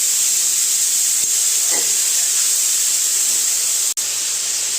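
Water poured into hot frying spice paste in a pan for a hilsa and taro curry, a loud, steady hissing sizzle that holds evenly, with a brief clink partway through.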